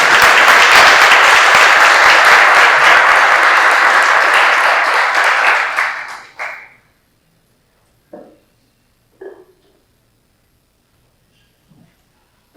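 A banquet hall audience at a high school academic dinner applauds a scholarship recipient with loud, sustained clapping for about six seconds, then it fades out, leaving a few scattered, faint sounds in near silence.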